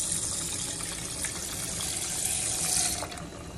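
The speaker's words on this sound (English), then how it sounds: "now we add 2 cups of water" Two cups of water pour steadily into a pot of uncooked rice, making a close, continuous splashing gush that lasts throughout and eases slightly toward the end.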